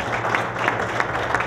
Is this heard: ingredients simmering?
no